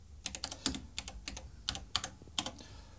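Typing on a 1979 computer keyboard: quick, irregular clacking keystrokes, close and clear, with no voices.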